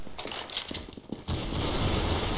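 Rapid bursts of gunfire in the video game Counter-Strike, a few quick sharp shots followed by a dense sustained volley, loud and close with no talk.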